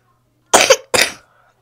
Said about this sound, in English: you just coughing all on my microphone